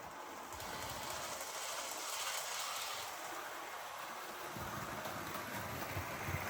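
A model HST train rolls steadily along its track with a continuous clattering rumble, fairly quiet, with no talking.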